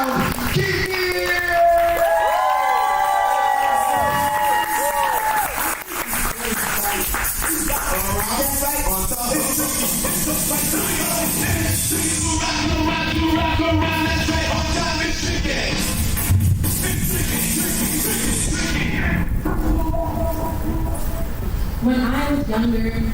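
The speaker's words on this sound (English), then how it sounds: "Applaud the poet! And keep that applause going for your next poet in this first round, Kiki!" A poetry slam audience claps, whoops and yells loudly and continuously from start to finish, with a host shouting over the crowd.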